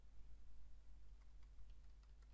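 Bracket keys on a computer keyboard are pressed in a few quiet, light clicks spaced apart over a low steady hum.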